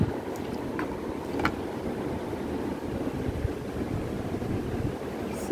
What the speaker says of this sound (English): Like this, it rolls and water comes here.